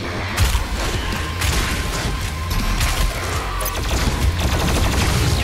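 Rapid heavy gunfire and explosive blasts from the video game DOOM Eternal during an arena fight, dense and loud, with repeated sharp shots and crashing impacts layered over a continuous rumble.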